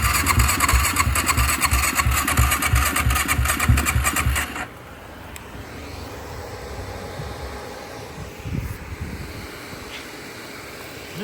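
Yamaha YFZ 450 ATV engine cranking with a rapid rhythmic churn for about four seconds, then stopping, leaving quieter low rumbling and faint handling sounds; the ATV is in poor condition and puffs smoke from the tailpipe.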